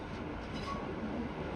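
A train, tram number 3009, passes on a railway in Northern Ireland heading toward City Hospital: a steady rumbling roar with faint rail clatter, fairly distant and continuous, with no voices.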